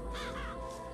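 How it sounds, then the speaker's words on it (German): A single drawn-out caw from the murderous crows of BioShock Infinite sounds close and clear over a low game drone. "Tödlich sind sie dann doch nicht, auch wenn es mörderische Krähen sind."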